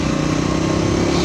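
A Triumph 400 XC motorcycle engine drones steadily and loudly, close up, with a continuous buzzing rumble as gears are shifted.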